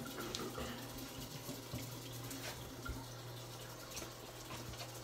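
Water runs steadily from a bathroom tap as hands are dampened for a morning face wash, a continuous moderate splashing hiss with a low hum beneath and no speech.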